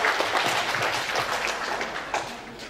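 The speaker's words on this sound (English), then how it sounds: "Please give applause for Pak Musin Sihab." An audience at a campus event claps in a sustained, fairly close round of applause with dense overlapping hand claps throughout.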